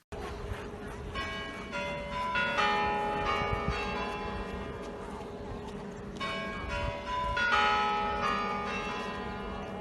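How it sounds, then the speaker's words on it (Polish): The Kremlin clock chimes ring out in Moscow, a melodic sequence of bell tones struck in two phrases over a steady low hum, with resonant strikes that ring on and overlap, heard without talk. "w muzykę kremlowskich kurantów się zasłuchała"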